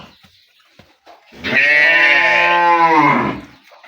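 A red Sahiwal heifer calf gives one loud, drawn-out moo close by, about two seconds long, after a few faint knocks and shuffles, with no talk over it.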